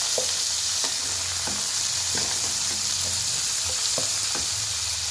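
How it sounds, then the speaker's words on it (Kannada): Tomato fries in a pan with a continuous loud sizzle and hiss, broken by regular soft scrapes and taps of stirring, with no voices. "ಈಗ ಟೊಮೊಟೊ ಹಾಕ್ತೀನಿ ಟೊಮೊಟೊ ಈಗ ಇದು ನೀಟಾಗಿ ಫ್ರೈ ಆಗಲಿ"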